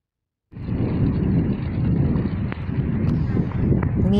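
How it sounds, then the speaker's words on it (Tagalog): Wind blows hard across a seaside flower garden, a loud continuous rushing roar with heavy microphone buffeting that starts abruptly and keeps going, with a few faint clicks over it. "Ingay nung hangin."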